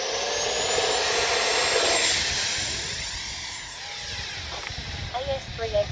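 A 50mm RC BAE Hawk jet plane at half to three-quarter throttle gives off a thin, whining ducted-fan roar that swells and shifts as it flies past, with wind noise mixed in.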